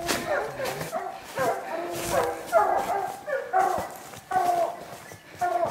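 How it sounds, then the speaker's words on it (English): Several hunting dogs bark, yip and whine excitedly at a bear up a tree, in a continuous chorus, fairly close, with overlapping howling barks and no pauses. "Dogs are barking just right up here."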